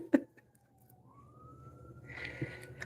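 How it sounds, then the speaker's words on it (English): An emergency siren wails outdoors at a distance, one long rising tone that swells slightly louder toward the end, faint behind indoor room sound with a soft knock near the start. "I like how the siren's going off outside."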